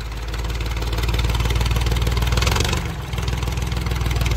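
A Powertrac 445 tractor with a 45 HP engine, fitted with a straight-through silencer, runs steadily with a loud, close, throbbing diesel chug that swells slightly and dips briefly near the end before settling back.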